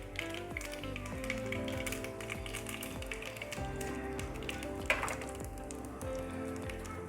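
Mustard seeds, cumin and asafoetida sizzle and pop in hot oil in a pan, faint crackling taps over a steady background with soft musical tones running underneath.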